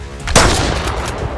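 Stalactites in a mine in the survival game Mist Survival crash down with a single sharp, loud impact followed by a rumbling, crumbling tail.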